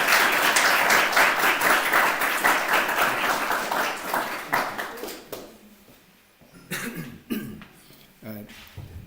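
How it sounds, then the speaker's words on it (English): An audience at an architecture lecture applauds loudly for the speaker, the clapping fading out over several seconds and giving way to scattered coughs, throat clearing and a few isolated taps. "please give Jimenez a big round of applause"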